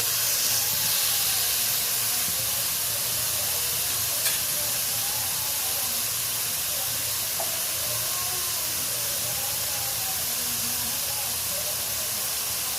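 Onion, green chilli and tomato masala fries over low heat while a spatula works through it, a constant loud sizzling hiss with faint occasional scrapes.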